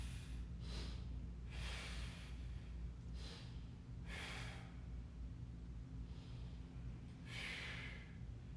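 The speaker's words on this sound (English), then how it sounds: "Breathe. Reach. Full inhale, full exhale." Slow, deep breathing from a person doing a stick mobility exercise in a workout class, several soft airy inhales and exhales spaced a second or two apart, faint and close over steady background hum.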